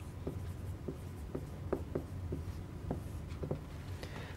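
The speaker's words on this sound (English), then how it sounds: "So let me write that." Chalk or marker taps and scratches across a board while remarks are written out in a polynomials math lecture, a steady series of short strokes at moderate volume with no talking.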